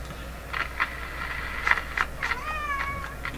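Cat meowing indoors in a string of short, fairly close meows, the last one drawn out and rising, over a low background hum.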